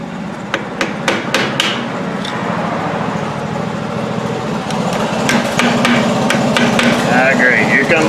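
Sharp metallic hammer blows strike near a Kia Sportage rear wheel bearing being fitted, a quick burst of close loud hits at first, then steady engine-like drone from a nearby lawnmower.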